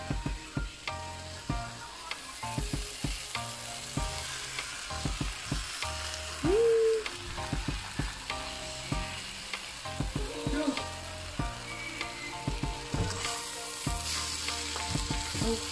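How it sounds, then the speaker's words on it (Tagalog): Three eggs fry in a pan with a steady close sizzle while a utensil stirs them, scraping and tapping irregularly throughout, with no voices. "Halu-haluin hanggang sa maluto ang egg."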